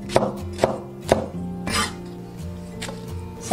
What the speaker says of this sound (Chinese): 1/2个红椒切小块